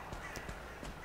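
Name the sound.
crows cawing in the video game Valheim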